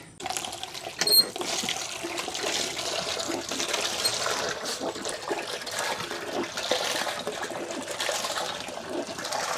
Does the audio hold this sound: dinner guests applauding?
no